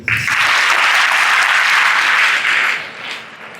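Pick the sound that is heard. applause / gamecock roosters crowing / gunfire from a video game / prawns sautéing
applause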